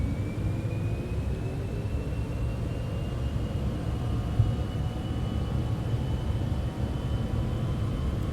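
Cessna Citation X jet engines spooling at takeoff thrust, a steady loud broadband roar with rising whine tones, heard continuously from inside the aircraft.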